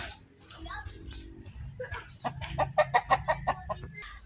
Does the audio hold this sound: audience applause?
no